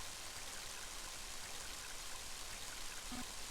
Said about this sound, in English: Mighty heavy rain, isn't it?